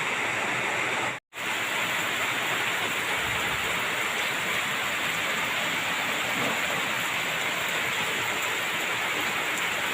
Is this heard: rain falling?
yes